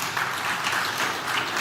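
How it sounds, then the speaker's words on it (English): Audience applause fills a lecture hall at UC Berkeley, a steady, dense wash of many hands clapping that stays level and close throughout without any voices on top. "As you're clapping"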